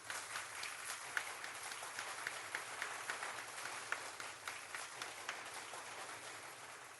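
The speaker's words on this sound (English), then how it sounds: "I'm going to applaud myself anyway" Recorded applause played by a radio host on a news-talk station for himself, a steady, dense wash of many clapping hands at moderate level, continuing evenly for several seconds with no talk over it.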